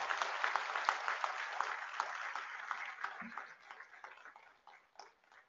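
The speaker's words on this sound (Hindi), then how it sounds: "जोरदार तालियां" Audience at a public water-mission event in India applauds a launch, dense clapping that stays steady before thinning out and fading toward the end.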